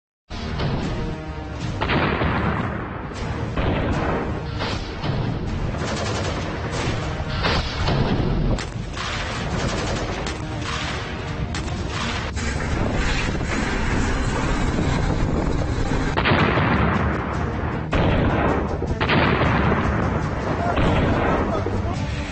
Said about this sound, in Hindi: रूस के हवाई हमलों से यूक्रेन धधक रहा है।